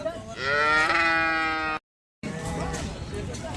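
A long, loud moo from a nearby cow at the Sangola cattle market, Maharashtra, followed by a brief gap and then a second, rougher lowing call.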